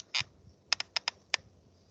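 Keys are tapped on a computer keyboard, one isolated click followed by a quick run of five sharp taps, close and fairly quiet, with no talking.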